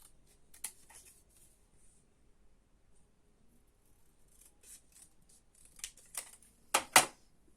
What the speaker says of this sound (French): Et donc je vais découper mon triangle.